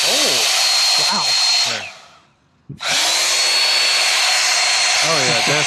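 A powerful blower inflating a WARSUN hail car cover roars with a loud hair-dryer-like whoosh, cuts out briefly, then starts up again, with voices faintly underneath.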